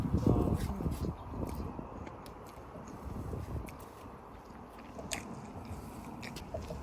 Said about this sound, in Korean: 빵 안에다가 아이스크림 넣어가지고 먹어.